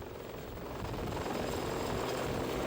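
A navy helicopter flies overhead, its rotor producing a dense, steady chop that swells slightly louder partway through the short stretch, with no voices.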